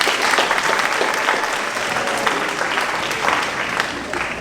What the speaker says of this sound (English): let's give all of them a big round of applause again.